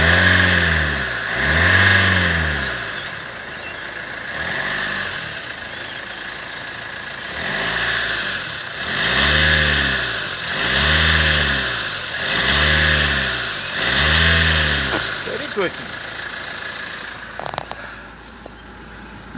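A 2011 Kia Sportage engine, with its diff lock engaged, is revved repeatedly from idle, about seven rising and falling throttle blips in a steady rhythm. It sounds close and clear with no talking, then drops back to idle with a few clicks.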